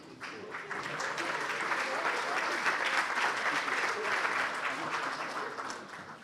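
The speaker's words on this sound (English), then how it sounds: "a big round of applause, please, for the company's representative, James Hardy" Awards ceremony audience at an aerospace media awards night gives a full, steady round of applause, dense clapping swelling quickly and holding strong before tapering slightly at the end.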